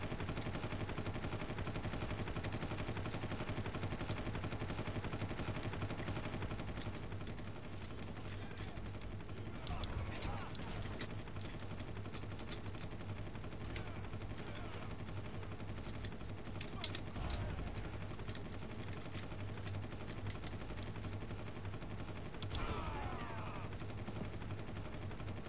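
Gunfire in Far Cry, a steady, dense rattle of shots through the whole stretch with a few sharper bursts, loud and continuous over a constant background.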